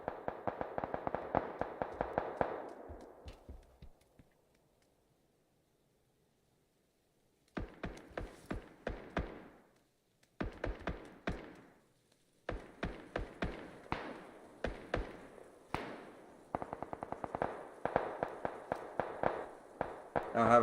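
Rapid bursts of gunfire in a Warzone/PUBG match on Xbox Series X, loud sharp volleys with a long silent gap midway, then repeated close clusters of shots.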